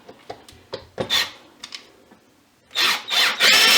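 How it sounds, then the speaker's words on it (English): A power drill drives deck screws through a hinge, with several short clicks and scrapes first and then a few louder, sustained whirring bursts close by near the end. "We'll go ahead and get our deck screws screwed into place."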